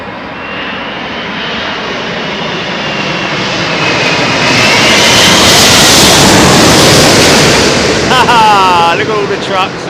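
A loud jet airliner passes overhead near London Heathrow, its roar swelling to a thunderous peak before easing off, with a brief different tonal sound right at the end.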